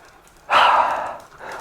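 A small dog pants in a single heavy burst of breathy huffing, close and fairly loud, then trails off into quieter breaths in a warm outdoor setting.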